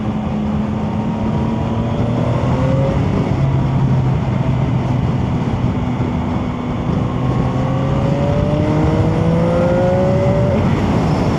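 A steady, loud motorcycle engine roar from a Chinese bike, with rising and falling pitch as the revs change, continuous and close, with no talking.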